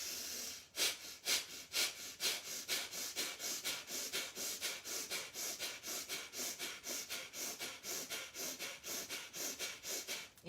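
Kapal Bhati pranayama breathing, with sharp, forceful nasal exhalations repeated in a fast, even rhythm, about two or three per second, close and alone without talk.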